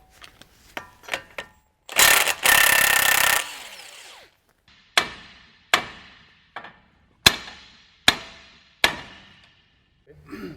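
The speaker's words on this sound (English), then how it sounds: "next we're going to go ahead and take off the steering end link" A ratchet wrench loosens the steering end link on a 2007-2019 Chevrolet Silverado 1500 during a 2.5-inch lift kit install, giving a few quick clicks, a burst of rapid ratcheting, then six sharp, evenly spaced metallic clacks, close and loud.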